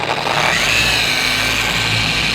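A power buffer runs steadily while polishing, a continuous high motor whine with a broadband rushing hiss, loud and close, with no talk over it.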